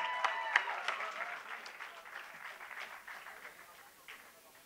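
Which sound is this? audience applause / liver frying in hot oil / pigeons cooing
audience applause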